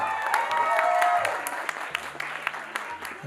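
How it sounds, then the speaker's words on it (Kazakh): Applause at a wedding celebration, a burst of clapping from a gathered crowd that thins into scattered claps, with voices and background music underneath. "Эльмира мен қарсас болған Алтайға қол шапалақ."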